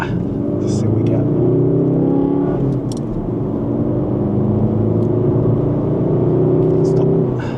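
A VW Golf GTD accelerates hard from a standstill in first gear with slight wheelspin, its engine droning and climbing loudly inside the cabin, with brief voices over the steady engine note.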